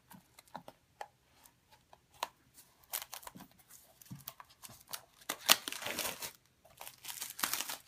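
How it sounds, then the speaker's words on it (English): Plastic wrap being peeled off an iPhone 6 Plus box: close, crinkly crackles and small ticks in irregular bursts, growing busier and louder toward the end. "Get the plastic off"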